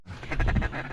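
Ducks quack nearby in a rapid, raspy burst during a rainy duck hunt where pintails are present, with the calls fairly loud and heard alone.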